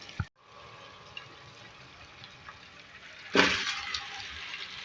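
Half a kilo of chicken goes into a hot pan of onion, garlic and ginger for chicken karahi. A soft simmering bed follows an early clunk, then breaks into a sudden loud, close sizzle that slowly eases.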